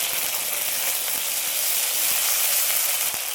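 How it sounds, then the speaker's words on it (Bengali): Chopped onion, ginger paste and dry chili paste sizzle in hot oil for a hybrid magur catfish curry, an even, dense hiss held close and steady throughout with faint ticks and no talk. "এই তেলের মধ্যে দিয়ে দিচ্ছি পেঁয়াজ কুচি, আদা বাটা আর শুকনো লঙ্কা বাটা"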